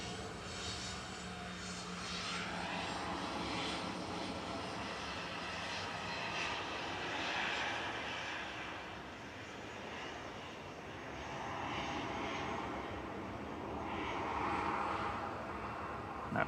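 A Ryanair jet departs Manchester Airport, its engines producing a steady, distant roar that swells and fades over several seconds with no talk.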